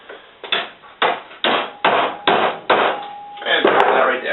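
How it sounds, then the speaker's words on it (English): A big hammer strikes a bent metal bracket from a rattling radio mount about eight times in a steady rhythm, each hit a sharp, close clang with a short ring. "we're going to take the big hammer"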